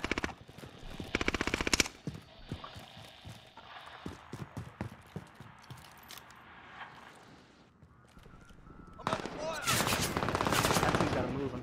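Video game gunfire in a multiplayer firefight: bursts of rapid automatic shots at the start and again at the end, with scattered single cracks and clicks between them, fairly faint overall.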